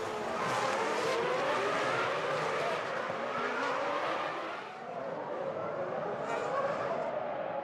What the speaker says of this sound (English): Down hard on the brakes and the gearbox into first gear